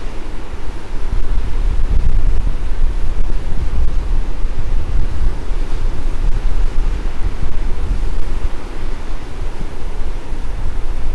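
Ocean surf and strong wind on the coast at Pedasi, a steady, loud roar of breaking waves mixed with buffeting wind across the whole stretch, no voices.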